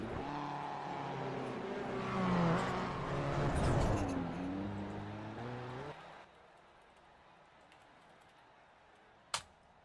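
Rallycross race cars at Daytona pass close by with rising and falling engine whine and revving, then fade into a quiet background, with one sharp knock near the end.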